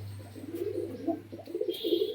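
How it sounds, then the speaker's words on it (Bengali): Pigeons cooing close by in a soft, repeated low burbling rhythm, with a few faint chirps in the background. "এই যে এবার ডাক করছে এতক্ষণ পরে দেখুন বন্ধুরা পায়রা একদম গরম আছে"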